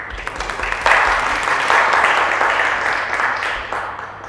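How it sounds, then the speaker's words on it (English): Applause from an audience at a seminar on Muslim women in British society, steady clapping that swells after the first second and holds at an even level before easing off. "let's have a round of applause for him"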